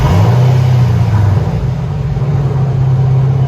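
A 2005 Ford Mustang GT350R with Flowmaster Outlaw dual exhaust revving up close, loud and deep with a steady low rumbling drone that swells and eases slightly as the throttle is held, heard with no talk.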